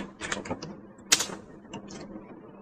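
Typing on a computer keyboard while creating a C tutorial folder, a quick run of close key clicks with one sharper clack near the middle and a few scattered taps afterward.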